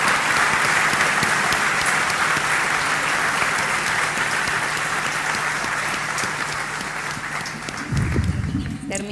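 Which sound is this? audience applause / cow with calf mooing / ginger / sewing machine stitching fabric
audience applause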